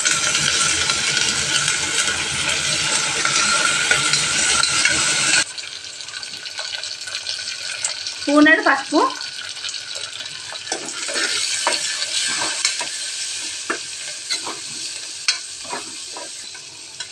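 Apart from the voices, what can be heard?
onion and curry leaves frying, stirred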